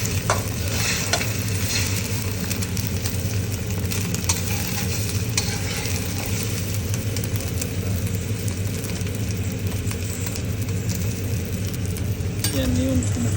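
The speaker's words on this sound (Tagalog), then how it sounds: "Yan yung kumukulo na." Loud, busy sizzling and bubbling of food frying in hot oil, continuous and close, with a low rumble underneath.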